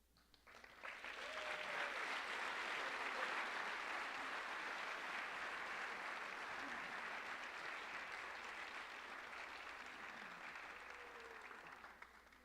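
A school auditorium audience applauds students entering the armed services at the 2024 Norris High School Honors Convocation. The steady, dense clapping swells in quickly and holds for about ten seconds before tapering off, with no talking over it.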